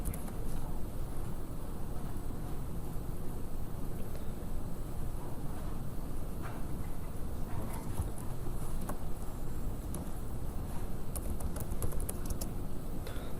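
Steady typing on a computer keyboard during a SQL Server 2012 class session, continuous soft clicking that runs throughout at a low, even level with no speech.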